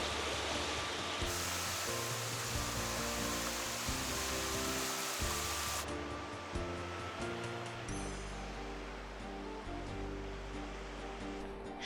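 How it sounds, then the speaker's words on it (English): A small creek along a backpacking route to San Josef Bay on the North Coast Trail gives off a steady, rushing hiss of flowing water, with background music playing over it. "There's some flowing water."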